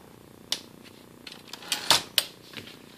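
A 1962 Brother Valiant typewriter being typed on, giving scattered sharp key clacks at an irregular pace with a few louder strikes near the middle, close and fairly quiet, with no voices.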